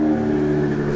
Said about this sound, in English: So I'm about to have her pull the car out so you guys can see